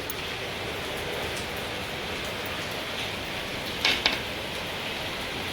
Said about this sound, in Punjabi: ਲਗਾਤਾਰ ਮੀਂਹ ਪੈ ਰਿਹਾ ਜੀ ਹਟਣੇ ਦਾ ਨਾਮ ਨਹੀਂ ਹੈਗਾ ਔਰ ਪੂਰੀ ਤਰ੍ਹਾਂ ਬਹੁਤ ਜ਼ਿਆਦਾ ਤੇਜ਼ ਮੀਂਹ ਹੈ